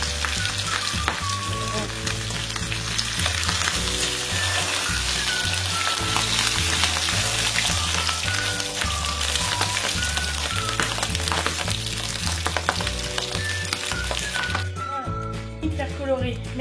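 Pork ribs frying and browning in a pan, a steady dense sizzle that runs the whole time at even loudness, close up, under a voice talking.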